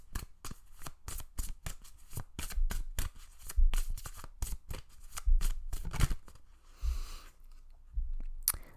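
Tarot cards being shuffled by hand in rapid riffling bursts, crisp and close, with brief pauses and soft thumps as the deck is squared, and no speech.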